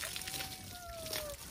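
Water pours and sloshes into a truck during a car wash, a soft continuous splashing with a thin whistling tone running through it, while voices talk over it.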